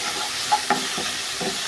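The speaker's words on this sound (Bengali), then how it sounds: "রসুনটা ব্রাউন কালার হয়ে গিয়েছে, এখন আমি দিয়ে দিব পেঁয়াজ কুচি করে রেখেছিলাম সেগুলো।" Chopped onion frying in hot oil over browned garlic, a close, even sizzle broken by a few short scrapes and knocks of a stirring spoon, with no voices.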